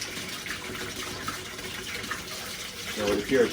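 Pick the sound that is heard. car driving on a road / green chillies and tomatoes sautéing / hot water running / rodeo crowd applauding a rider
hot water running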